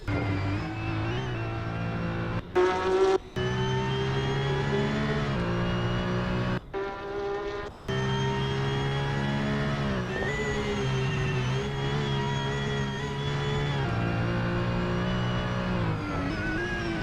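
Onboard a Porsche 911 GT3 992 Cup race car lapping a circuit, the engine howls loud and steady with rising and falling revs, two brief sharp cuts at gear changes, and no talk.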